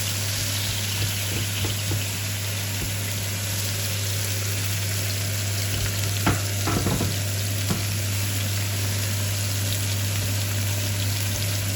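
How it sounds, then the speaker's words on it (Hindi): Finely chopped onion sautéing in a pan makes a continuous close sizzle, broken midway by a few scraping stirs over a low steady hum. "इसको मैंने छोटा छोटा सा काट लिया और इनको मैं थोड़ा सा सोते कर लूँगी"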